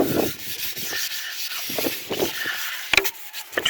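Wet sandpaper on a soft block rubs across a hydrofoil wing in short, light, irregular strokes, close and scratchy, with a few sharper scrapes near the end.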